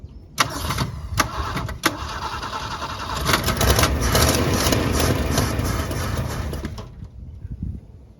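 A 1965 Ford Falcon two-door post, parked since the mid-1990s, cranks in a few sharp bursts, then catches and runs with a rough, loud idle for several seconds before cutting off.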